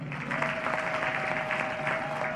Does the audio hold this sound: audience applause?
yes